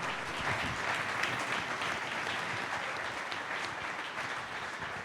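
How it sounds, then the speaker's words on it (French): Sustained applause from a church meeting congregation, dense and steady throughout, heard from a moderate distance. "Vous applaudissez un peu plus fort."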